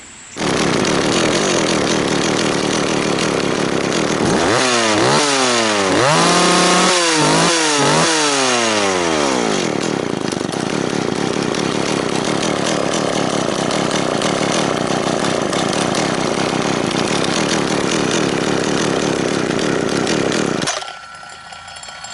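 A McCulloch CP 70 chainsaw, freshly fitted with a rebuilt Walbro SDC carburetor, roars loud and close, revving up and down in several sweeping bursts before settling into a steady high-speed run that cuts off abruptly near the end.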